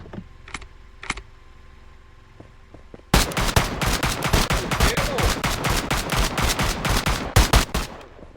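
Rapid automatic gunfire in the Roblox game OneState, loud and near, firing a dense sustained burst for about five seconds after a couple of faint earlier shots.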